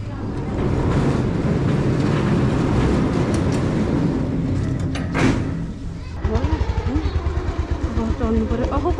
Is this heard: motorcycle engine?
yes